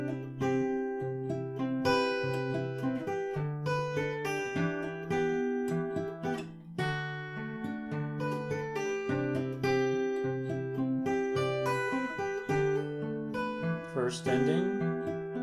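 An acoustic guitar plays a song as steady strummed chords mixed with picked melody notes, close and clear in an even rhythm for the whole stretch, with no talking.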